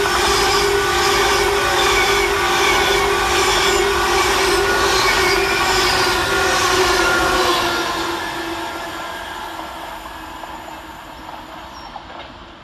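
Avanti West Coast Class 390 Pendolino electric train speeding through Tame Bridge Parkway station, a loud sustained roar and rush of wheels with a steady tone, fading away over the last few seconds.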